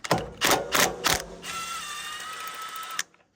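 A 10mm wrench ratchets on a bolt of a Kubota ZD1211 diesel zero-turn mower, with four quick clicking bursts, then a steady whirring rattle, close and alone.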